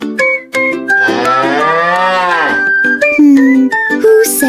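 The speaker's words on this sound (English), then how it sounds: "It's a cow!" A cow moos loudly and close in a long, drawn-out call, framed by short bright musical notes and chimes from a children's farm-animal song.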